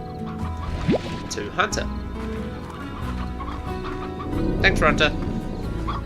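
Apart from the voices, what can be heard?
chickens clucking in video game Slime Rancher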